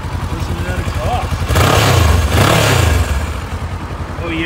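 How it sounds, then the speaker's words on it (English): A 2008 Kawasaki Versys 650 fuel-injected motorcycle starts up close by, cranking then catching into a loud exhaust rev that settles back to a steady idle. "And let's go ahead and fire her up. Fuel injected, nice and easy."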